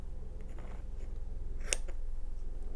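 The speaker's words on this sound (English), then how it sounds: "I'm going to snip that one off." A single faint, crisp snip of scissors cutting off embroidery thread on a stitched Christmas ornament, close up over a low steady hum, no talking.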